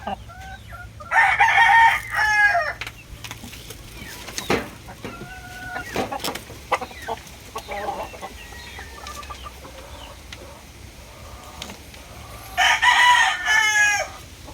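A Kelso Sweater bloodline gamecock rooster at PMM Game Farm in Tanauan City, Batangas crows loudly and close twice, at the start and near the end, with softer clucks and scattered bird calls between.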